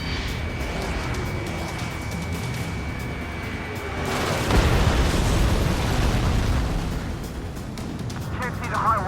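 Missile explosions in the jet combat game Ace Combat 7: Skies Unknown, a dense rumbling barrage of booms that swells midway, set against a steady engine drone and a repeating warning tone, with a voice talking over it.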